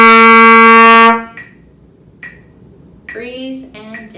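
A trumpet plays the opening of a piece as one loud, bright, sustained note that stops abruptly. Near silence follows, then a short burst of talking.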